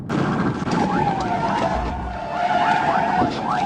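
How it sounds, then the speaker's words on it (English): A car spinning out of control across a highway after being rammed from behind by a state trooper's cruiser, tires skidding loudly and continuously with engine roar and crash-like rumble throughout, no talking. "The car spins out of control across the highway, hits a wall, and flips over."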